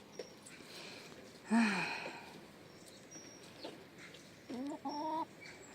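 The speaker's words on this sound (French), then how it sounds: "C'est des princesses les poules ici." Backyard hens cluck and squawk nearby in a vegetable garden, one loud burst of calls followed by softer clucks and a short run of rhythmic clucking, no talk.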